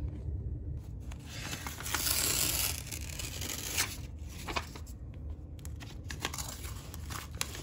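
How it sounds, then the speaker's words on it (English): Paper pages being torn out of a book, with repeated close ripping and crinkling tears over a steady background hum, no talking. "Ripping these pages out."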